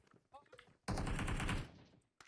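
Gunfire in PUBG Mobile as a player shoots down a bot: a loud, rapid automatic burst lasting under a second, with a single sharp shot after it and quiet talk and game sounds before.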